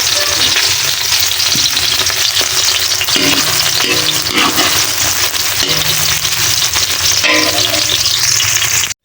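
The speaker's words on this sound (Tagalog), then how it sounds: "ang pinakauna natin gigisa ay ang ating mga sibuyas" Onions sautéing in hot oil for pancit bihon, a loud, dense, continuous sizzle close up, with occasional clanks of a spatula stirring the pan.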